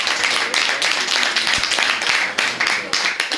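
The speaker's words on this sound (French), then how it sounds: "on va applaudir notre ami Alexandre" Audience applauding a speaker, Alexandre, after his talk at a vineyard in Gerberoy: dense, steady hand clapping from a nearby crowd filling the whole stretch without pause.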